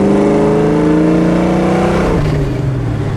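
A 1969 Ford Mustang Mach 1 with a stroker engine accelerating hard at full throttle after a downshift, its loud, close engine note climbing steadily in pitch as revs rise, then briefly dropping at a gear change and pulling again.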